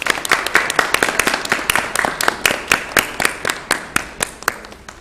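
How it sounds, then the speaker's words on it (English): Audience applause at a university crowning ceremony for Mister and Miss, with distinct individual claps ringing out in a steady, fairly close patter that fades slightly toward the end. "Let's give them another round of applause."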